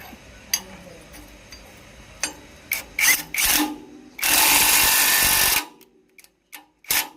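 Rotavator blade bolts are tightened by hand, with scattered clicks and clanks followed by a sustained loud burst of grinding, ratcheting noise and a few sharp knocks at the end, close up.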